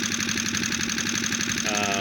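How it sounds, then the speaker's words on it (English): A 2021 Hangkai F6.5 four-stroke outboard motor on an inflatable dinghy drones steadily with a fast, even chugging pulse, close and loud throughout, its pitch rising slightly near the end. "I don't know what it does, but the engine actually got faster,"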